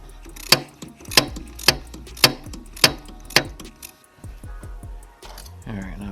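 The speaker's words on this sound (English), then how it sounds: "Get a ratchet and a socket to fit that" A ratchet with a socket clicks through six sharp, evenly spaced bursts while working in the engine bay of a turbocharged Lexus IS300, followed by softer metallic handling sounds close by.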